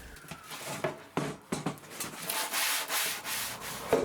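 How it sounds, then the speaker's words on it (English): Steady abrasive rubbing of 120 grit sandpaper against a painted kayak trimaran pontoon outdoors, repeated back-and-forth strokes, close and fairly loud, with no talking. "Sanding with 120 grit paper to prepare for the next layer."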